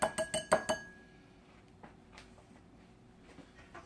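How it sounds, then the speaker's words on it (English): A spoon clinks sharply against a bowl five times in quick succession while coleslaw ingredients are mixed, then the sound drops away to near silence. "just mix this all up"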